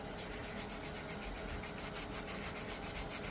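A wooden fishing lure is hand-sanded with continuous close rasping and rubbing strokes in a steady scratchy rhythm, with no voices.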